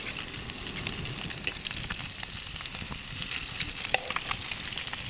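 Fish sizzles and fries steadily over a primitive fire torch on the coast while being flipped, with a continuous crackling hiss and a few sharper pops and scrapes, close and without talk.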